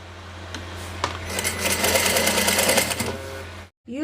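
A sewing machine runs steadily for about three seconds, stitching a facing onto fabric while draping a bubu gown, its fast motor rattle close and even, then it stops and a brief pause follows.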